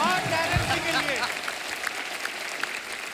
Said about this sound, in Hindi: एक बार जोरदार तालियां सोनाली जी के लिए, गीता जी के लिए और टेरेंस जी के लिए